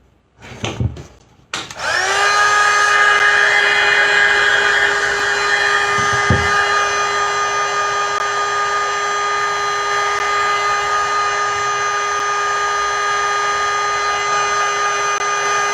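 A heat gun roars on after a few brief clicks and handling sounds, then blows as a loud, steady, high-pitched whine while drying air dry clay, holding constant to the end.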